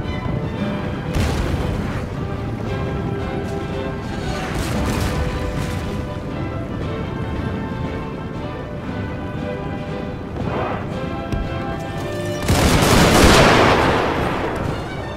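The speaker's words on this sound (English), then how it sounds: "And there goes, you see the artillery shooting too" Artillery fires in the Steam & Steel mod strategy game, heavy booms and crackling volleys over a dense, continuous battle din with music, swelling into a louder blast near the end.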